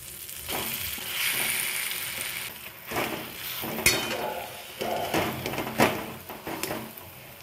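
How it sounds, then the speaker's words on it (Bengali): Mashed potato being stirred with spices and curry leaves in a frying pan, a soft continuous sizzle broken by several louder scraping and knocking strokes of the spoon, close up. "আমি খুব ভালো করে আলুটা মশলার সাথে মিশিয়ে নিচ্ছি"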